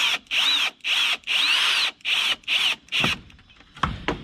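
A power drill drives a screw into a DIY poultry waterer, six short whining bursts of the motor in a stop-start rhythm, close and loud, followed by a few light knocks and clatter.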